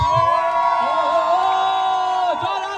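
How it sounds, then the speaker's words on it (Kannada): A crowd at a Kannadiga community cricket event in Canada cheers and shouts together throughout, a dense, loud wash of voices with whoops rising over it, though distinct clapping is hard to pick out. "ಎಲ್ಲರೂ ಜೋರಾಗಿ ಚಪ್ಪಾಳೆ ಬರಲಿ"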